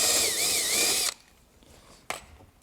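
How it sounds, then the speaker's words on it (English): A unibit step drill bores a 3/8-inch hole for a catch can hose on an MK7 car, giving a loud, close, high whining grind for about a second, then a short pause and a brief click. "Now I'm actually going to be drilling with a unibit."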